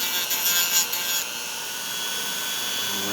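A handmade RC steering knuckle has its edges rounded over, giving a steady, close abrasive grinding hiss that runs the whole time, slightly louder and harsher at the start before settling into an even drone.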